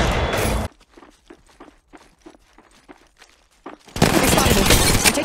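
Loud bursts of automatic gunfire in Apex Legends Mobile open and close the passage, with a quieter stretch of rapid footsteps and faint clicks between the two barrages.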